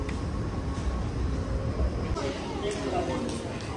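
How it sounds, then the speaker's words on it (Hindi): A Dubai Metro train rumbles through a busy station, a low continuous mechanical drone with faint higher whines and clatter, while people talk nearby. "तो ये है दुबई का मेट्रो स्टेशन"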